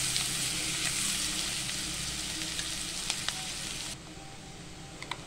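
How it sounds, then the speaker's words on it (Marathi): Onion frying in a pan until reddish-brown for ridge gourd dal sabzi: a constant bright sizzle close by, with a few light taps and ticks, quieter toward the end. "लालसर भाजायचा आहे कांदा आपल्याला।"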